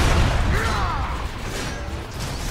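A rocket launches in Transformers Rise of the Dark Spark with a loud, rushing burst that opens the moment and then fades into a rumbling wash of battle noise.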